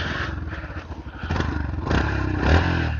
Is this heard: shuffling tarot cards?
no